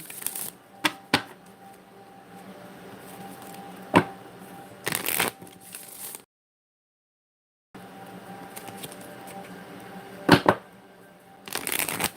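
Tarot cards are shuffled in brief riffling bursts separated by quiet pauses, with soft sharp card snaps and shuffling rustle close to the listener and a short silent gap in the middle.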